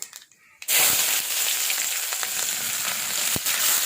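Chopped onions dropped into hot oil with fenugreek and mustard seeds for a prawn, jackfruit seed and mango curry, breaking from near silence into a loud, sustained sizzle with occasional stirring knocks.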